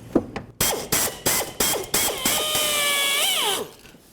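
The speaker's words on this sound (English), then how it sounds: "We have a rivet, so I'm going to go ahead and drill that out." A power drill bores out a rivet on the front driver's door of a 1992-2000 Chevy Tahoe. A series of sharp rhythmic bursts leads into a sustained high whine that rises in pitch before stopping, loud and close.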